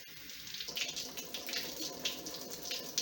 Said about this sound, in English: we're going to give it a quick rinse